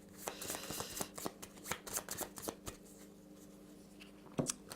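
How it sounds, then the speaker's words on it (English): A deck of Hero Realms cards is shuffled up close, giving a run of quick riffling bursts and soft snaps at a steady rhythm, ending with a sharper final flurry and no talking. "she doesn't have enough, so shuffling up."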